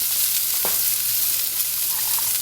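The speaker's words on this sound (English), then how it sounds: "And onions and peppers are going to take a little bit longer, so we'll just get those going." Onions and peppers frying on a Weber Kettle Q grill, giving a bright, continuous close-up sizzle that stays even throughout, with one soft scrape or tap partway through.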